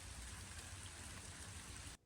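Steady rain pours down at a campsite, a dense, even hiss of drops with a low pattering rumble underneath, continuous and close until it cuts off abruptly near the end, with no voices.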